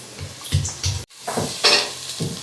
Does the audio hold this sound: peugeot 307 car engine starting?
no